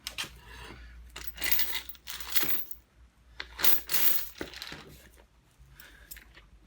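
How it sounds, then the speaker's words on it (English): Bolt cutters crushing the plastic cover of an Abus chain lock, with several loud, close crunching and crackling squeezes separated by short pauses and no voices. "I can't get the bolt cutters around that plastic, but that doesn't stop me crushing it nonetheless."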